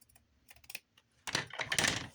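Scissors snip across fabric in a few short crisp clips, then a longer louder burst of rough cutting, close and alone with no talk.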